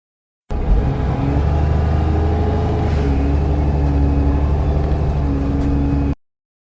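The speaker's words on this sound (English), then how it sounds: "Bus." A bus engine runs at a steady, loud drone for several seconds, with a constant low rumble and no change in pitch, heard alone with no voices.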